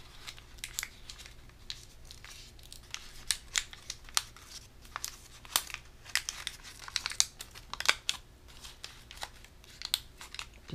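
Paper crinkles and crackles close by as an origami beagle is shaped with a reverse fold, giving irregular sharp rustles and crisp snaps over a quiet background.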